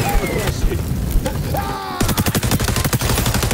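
Gunfire in the XDefiant shooter game: scattered shots mixed with voices first, then a fast, regular burst of loud automatic fire for the last second and a half.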